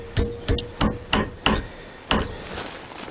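A part for an XJ 900S motorcycle is clamped in a vise with a series of sharp metallic knocks, five in quick succession followed by one more after a pause. The knocks are close and crisp, and no one speaks.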